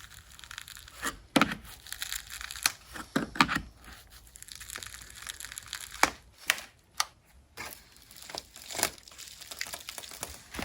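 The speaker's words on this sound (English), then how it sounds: "we're working on getting our window trim off. Hopefully without breaking it." Window trim being pried off a 1978 Lincoln Continental during restoration produces scattered close crinkling, creaking and sharp cracking snaps in irregular bursts, with quiet pauses between them.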